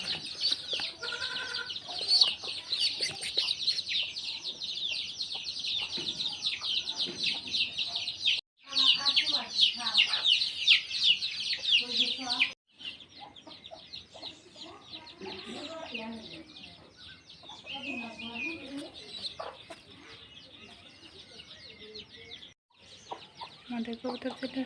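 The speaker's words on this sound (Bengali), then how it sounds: "এই যে আমাদের কবুতর, দেখেন।" Pigeons in a Bangladeshi village give soft cooing and fluttering calls that run through most of the stretch, with a bright chirping layer and people talking nearby.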